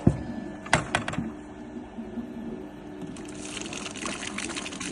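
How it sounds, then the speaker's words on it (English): Water from a bucket pours into the top of a 30L Longo&Co ice cream machine running in clean mode, a gushing, splashing flow with a few sharp knocks early on, then a steady rushing stream. "pour the water into the top."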